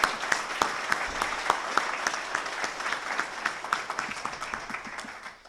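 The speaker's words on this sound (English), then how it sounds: "just one more round of applause for this excellent program" Audience applause at a student news awards ceremony: a sustained crowd of hands clapping, fairly loud and even throughout, with individual claps standing out near the front.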